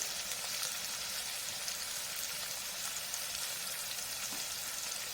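Onion, curry leaves, dried red chillies and chana dal frying in oil for sambar, a steady close sizzle with faint crackles running the whole time, no voices.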